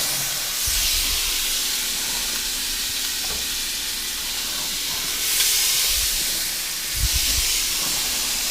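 Lamb chops sizzle loudly in a hot pan, a continuous bright hiss that swells as each chop is added, with occasional clunks and knocks of handling and brief talk nearby.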